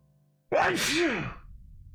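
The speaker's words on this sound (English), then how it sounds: "I'm about to sneeze." A single loud sneeze bursts out after a brief quiet, a sharp intake and forceful blast trailing into a short breathy tail.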